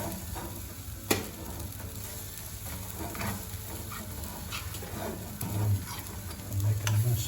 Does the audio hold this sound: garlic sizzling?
yes